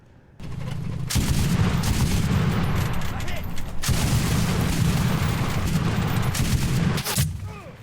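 Dense, continuous battlefield gunfire and booming in the World War II shooter Enlisted, loud and sustained for most of the stretch with brief drops, no talk over it.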